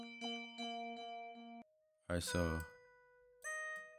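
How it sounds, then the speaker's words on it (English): Bright synth bell notes ring in a plucked, evenly spaced pattern with a sustained soft lead tone, briefly interrupted by someone speaking before the bells return. "but I put a bell and the soft lead,"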